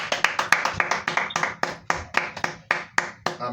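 A church congregation claps in acclaim of the Lord, with sharp, distinct handclaps falling in a fairly regular rhythm, roughly three per second, close and clear with brief gaps between.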